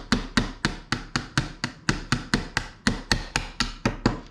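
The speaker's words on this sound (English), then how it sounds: "The hammer." A hammer taps a punch to drive the trigger pin out of an airsoft M4 during an HPA installation, with roughly seventeen sharp, evenly spaced metallic strikes, close and loud, with no talking.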